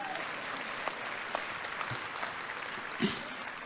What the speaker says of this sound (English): Y'all go ahead and clap.